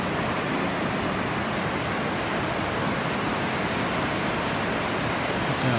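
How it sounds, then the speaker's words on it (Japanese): A steady, dense wash of surf roars continuously without pause, broad and even like waves breaking nearby on a shore. "波の音が結構"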